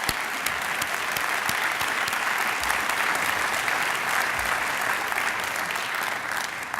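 Sustained, loud applause from an audience at a school district awards event, an even wash of many hands clapping for nearly seven seconds with no speech over it.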